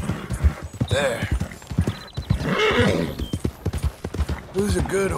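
In the Red Dead Redemption 2 video game, a horse neighs and whinnies several times while its hooves clop in an uneven rhythm close by, with a voice talking over the sounds.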